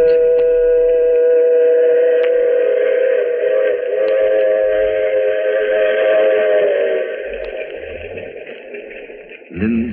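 A train runs in a radio drama effect. A loud, sustained multi-tone whistle sounds over a rumbling engine, then fades as the rolling noise continues.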